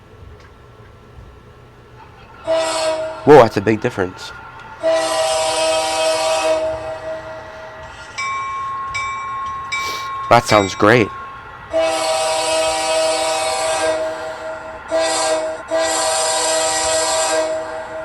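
A scale sound system speaker fitted in a miniature train plays loud bursts of locomotive rumble, hissing steam and horn blasts in repeated segments, with a person briefly reacting in between.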